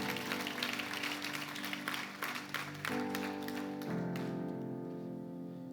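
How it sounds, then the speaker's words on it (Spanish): A church congregation claps during a service, while sustained keyboard or organ chords ring underneath. The clapping is strongest in the first three seconds and then thins out as the music carries on alone. "Dar un aplauso a Jesús."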